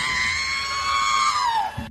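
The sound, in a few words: R2-D2 screaming sound effect from Star Wars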